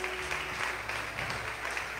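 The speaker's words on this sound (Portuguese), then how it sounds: "Quem recebe essa mensagem aplaude Jesus." A church congregation applauds together in a steady, dense wash of clapping that fills the space without pause, with a faint voice or tone briefly audible underneath near the start.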